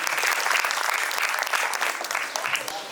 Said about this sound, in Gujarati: જોરદાર તાળીઓથી એમને વધાવીએ